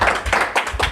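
A few quick bursts of clapping, about four short rhythmic pulses within under a second, greeting Babe Cabita on a chat show; near and moderately loud, with no voice over it.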